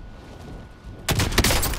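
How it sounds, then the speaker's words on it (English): A sniper rifle fires in Call of Duty: Modern Warfare during a Plunder match, one sharp, loud crack that breaks a low, quiet background and rings on with echoing tail. "I got him, bro, with the snipe!"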